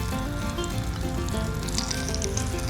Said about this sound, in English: Let that sizzle on that butter a little bit.